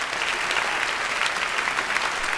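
A comedy club crowd at a stand-up special applauds in a full, continuous roar of many hands, loud and steady throughout with no break and no voices over it.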